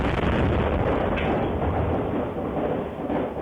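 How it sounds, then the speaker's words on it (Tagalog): A stockpile of firecrackers inside a house explodes, heard from a neighbouring house's security camera as a loud, distorted, sustained roaring blast that slowly eases without fading, with no clear talk. "Ang malakas na pagsabog nakuhanan ng CCTV mula sa kalapit na bahay."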